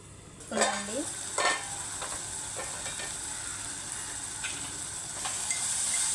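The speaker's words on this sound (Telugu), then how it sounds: "మూత పెట్టి మగ్గించుకోవాలి" Dry anchovies with curry leaves cook in a covered pan, giving a steady sizzling hiss with a few short scraping knocks from a spatula near the start.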